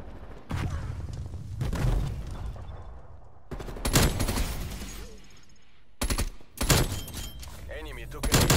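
Assault rifle fire from the hip in a video game comes in loud, rapid bursts with gaps between them, with a voice talking among the shots.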